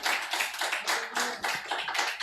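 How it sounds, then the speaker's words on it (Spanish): A small church congregation claps for the Lord during a water baptism service, a close, loud burst of hand claps in an uneven rhythm, without talk. "Un fuerte aplauso al Señor."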